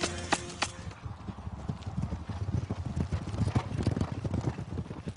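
A horse ridden at speed, its rider holding the reins in one hand and a sword in the other, drums out rapid, steady, close clip-clopping hoofbeats.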